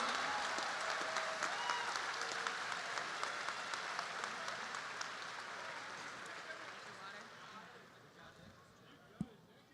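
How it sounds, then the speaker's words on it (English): Graduation-ceremony audience at Kirkwood High School applauds for Mr. Ravenscraft, a broad wash of clapping that slowly fades over several seconds, ending with a single sharp knock. "how about a round of applause for Mr. Ravenscraft"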